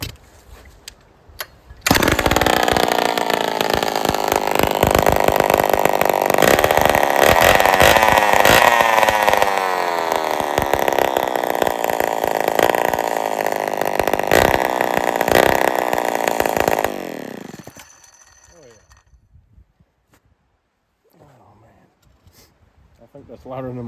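A Homelite XL12 chainsaw with a domed piston and small muffler baffle roars loud and close, held at steady high revs for about fifteen seconds before cutting off abruptly into near quiet.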